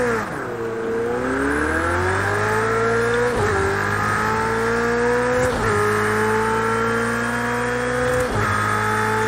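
Race car engine in the PC game Project Cars 2, loud and continuous, revving up through the gears with sharp drops at each shift and a few light tire sounds, with no voices.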